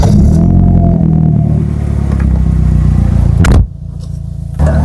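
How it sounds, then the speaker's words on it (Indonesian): A 1996 Mercedes-Benz C200 W202 with a manual gearbox runs close by, its engine droning steadily as it pulls away, with a brief dip in level partway through before the engine note picks up again. "langsung aja kita nyalakan Mercy ini dan kita bawa untuk jalan."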